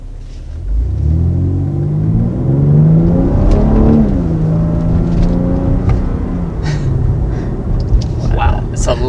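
A 2020 BMW X3 M with its 500-horsepower engine in Sport mode gives a deep, throaty rumble that swells as it revs and accelerates, heard from inside the cabin.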